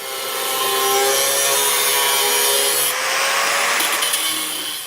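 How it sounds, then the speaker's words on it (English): A drill cuts a hole in a car body during a battery relocation, grinding steadily for several seconds, a loud continuous whirring rasp with a brief change in pitch partway through. "We got to hold the drill and we got to cut it."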